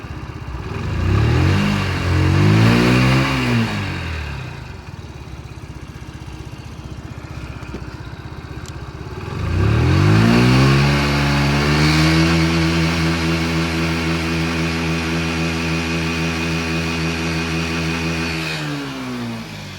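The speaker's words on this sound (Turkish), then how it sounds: "Şimdi tam gaz denemesi yapacağım." A Mondial Turismo 50i scooter engine revving twice at full throttle, the pitch climbing and falling on the first rev, then held high on the second for about ten seconds before dropping back to idle, loud and close.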